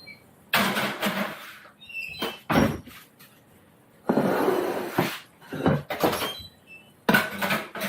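An oven door opening and shutting as stuffed peppers go in, several loud close clunks and scraping bursts separated by short quiet gaps.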